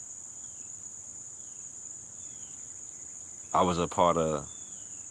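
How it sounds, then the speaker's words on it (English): Crickets chirp steadily outdoors in the grass, a constant high trill running through the whole stretch, with faint bird calls, and a voice speaks briefly near the end. "I don't know if y'all can hear the birds, the crickets, life."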